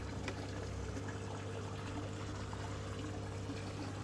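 Water flowing steadily through a koi pond filter with a restricted flow, a continuous even trickle and wash with a low hum underneath, with no talk.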